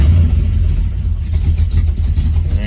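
A cold 1963 Pontiac Star Chief V8 with an adjustable vacuum advance and curve kit, a loud close low rumble that sounds already running rather than cranking, steady idle with slight rises, no talking.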